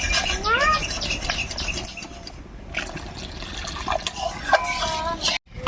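Water poured into a pot of boiled masoor dal in a home kitchen, a splashing, gurgling pour that runs on and off, with a voice talking over it and a clatter near the end.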